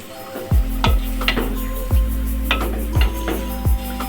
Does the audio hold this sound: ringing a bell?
no